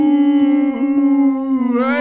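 People in a virtual reality game imitate wolf howls with their voices, a sustained wavering howl rising in pitch at the end, loud and close with no other sound.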